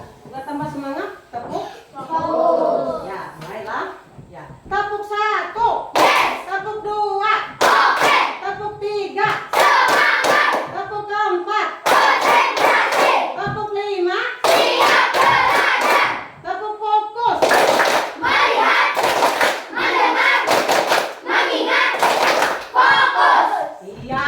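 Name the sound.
group clapping hands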